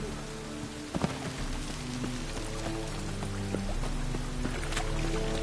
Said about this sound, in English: Rain again.